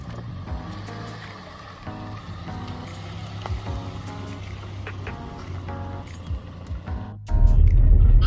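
Toyota Vios Limo Gen 2, a former taxi, driving along with a steady low engine hum, small rattles and clicks, and a louder rumble near the end.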